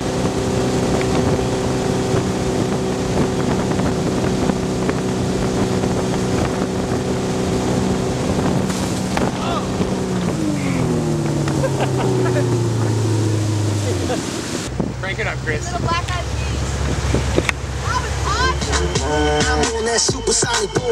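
A motorboat runs across open water with a steady, loud engine drone and heavy wind buffeting. The engine pitch slides down partway through, then splashing and choppy water noise take over, with voices faintly underneath.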